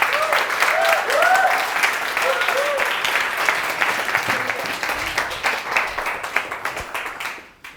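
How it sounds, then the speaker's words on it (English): Audience at a coding bootcamp demo day in Tokyo giving a round of applause as a presenter comes on stage, dense clapping with a few whoops over it, fading gradually before cutting off. "I think she deserves a round of applause."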